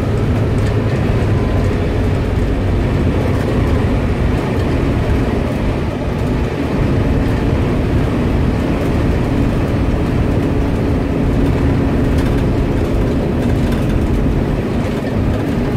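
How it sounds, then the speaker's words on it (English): A Cummins ISB diesel truck's exhaust brake rumbles with the throttle released during city driving, a loud continuous low roar holding steady throughout with no talk. "When I left the throttle, you'll definitely hear the rumble."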